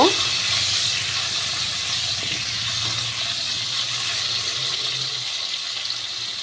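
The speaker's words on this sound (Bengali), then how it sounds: "আমি আলুগুলোকে ছেড়ে দিলাম। আলুগুলোকে একটু ভাজা করে নেব।" Potatoes frying in hot oil in a pan, cooked for a light Bengali fish curry with potato. A steady, fairly loud sizzling hiss carries on unbroken for the whole stretch, with a faint low hum underneath.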